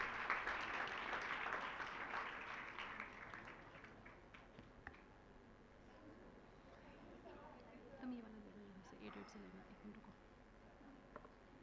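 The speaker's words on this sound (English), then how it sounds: "a big round of applause." Audience applause for a school group on stage at a public event, a broad wash of clapping strongest at the start and fading over several seconds into quieter room noise and voices.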